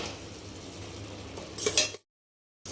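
Masala for rajma being stirred and roasted in a pan gives a steady background rustle. A brief burst of scraping and clatter follows, then the sound cuts to silence before it briefly resumes.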